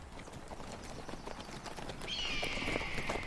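Horses' hooves clip-clop at a steady walk on a twisting trail down a low ridge, soft and close, with a thin high whistling tone entering halfway through.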